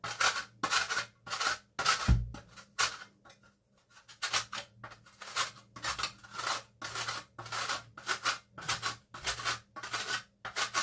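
Frozen topping is grated over a slice of mince pie, giving a rhythmic series of short scraping strokes on a hand grater, close up and fairly quiet, with one brief pause partway through.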